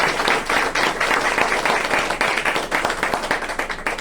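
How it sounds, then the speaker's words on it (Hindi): An audience at an RCM business event breaks into loud applause, many hands clapping in a dense, rhythmic burst that stays strong for several seconds with no speech over it. "मैं चाहूंगा एक बार जोरदार ताली"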